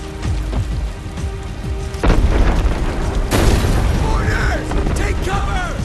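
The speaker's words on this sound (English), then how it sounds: "They've got artillery! Incoming!" Heavy artillery blasts boom in Homefront: The Revolution, two deep, loud explosions rumbling over a constant roar of battle noise, with shouted voices underneath.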